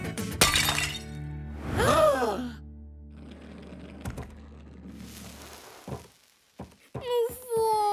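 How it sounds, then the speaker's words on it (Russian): In a cartoon, a small vase shatters with a sharp crash, followed by scattered clatters, thunks and tinkling pieces, with a voice and bright musical tones near the end. "Ну вот, Машина любимая вазочка разбилась."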